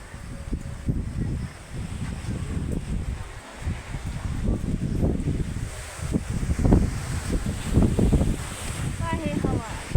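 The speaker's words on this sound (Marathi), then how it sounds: "झपाझप एवढी सारी हवा सुटली" Strong wind blows hard outdoors, loud gusty roar and microphone buffeting rising and falling in surges, with people talking faintly in the background.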